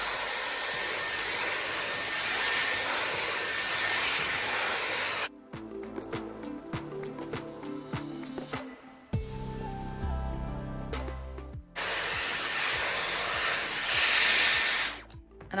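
A Dyson Airwrap styler fitted with a brush head blows a steady, loud airy hiss at medium heat close by. The hiss cuts out partway through, with rustling and handling noises, then comes back.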